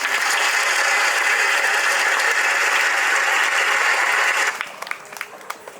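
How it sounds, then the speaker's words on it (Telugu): An audience claps in welcome at a gathering, a loud dense wash of applause that holds steady, then suddenly thins to a few scattered claps before stopping. "మీరందరూ కరతాల ధ్వనులతో చప్పట్లు కొట్టి మేడం గారిని ఒకసారి ఆహ్వానించండి"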